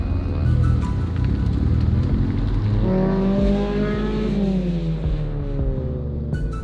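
A car fitted with a roll cage launching into a hot lap, its engine revving hard and climbing through gears with rising and falling tones, loud and close, no talk.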